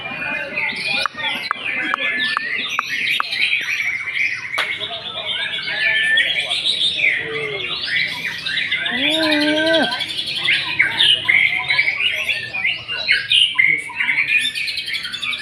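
An oriental magpie-robin (murai batu) sings a varied, loud run of whistles, trills and chirps at close range, with rapid shifting phrases and a few lower squawking notes mixed in.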